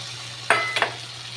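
Water poured into a pan of frying spiced pangas fish curry gives a short, close burst of hissing sizzle with a faint clink, over a steady low hum.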